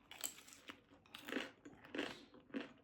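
Crisp crunching bites into a taquito made with homemade corn tortillas, three or four in quick succession, close and fairly quiet with chewing between them.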